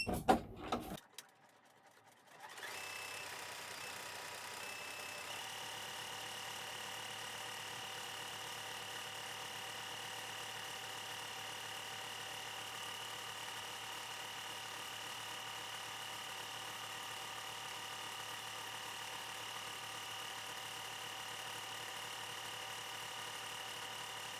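An embroidery machine stitches a satin top edge: after a brief start-up clatter it settles into a steady, fast mechanical whirring hum with a constant high tone, running on without pause.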